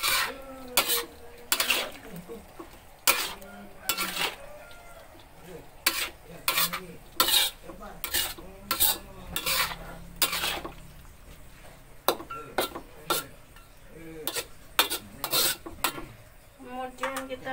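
A spatula stirs white cabbage capcay in a pan with a sizzling base, sounding as repeated sharp metallic scrapes and clinks in an irregular rhythm, close and fairly loud, with no talk over it.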